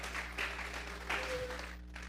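Church congregation clapping together during a Spanish-language service, a short burst of applause in a few rolling swells over a steady low hum, fading out near the end.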